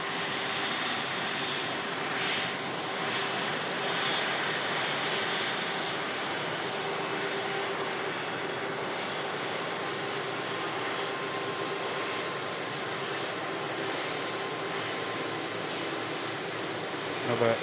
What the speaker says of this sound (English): as we watch this aircraft taxi out for departure to Beijing